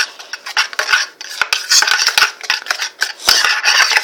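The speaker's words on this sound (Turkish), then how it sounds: "Bolca karıştırıyoruz." Homemade purple slime being stirred vigorously, a continuous run of wet squelching, scraping and clicking sounds up close, with no voices over it.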